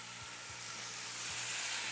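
Kentucky bourbon poured into a pan of browning vegetables, giving a steady close sizzle and hiss of frying that grows slightly louder, with faint stirring taps underneath.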